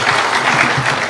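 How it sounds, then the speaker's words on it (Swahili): A crowd at an outdoor presidential rally in Ngong claps together in a loud, dense, sustained burst of applause welcoming the president. "tumukaribishe kiongozi wetu kwa makofi"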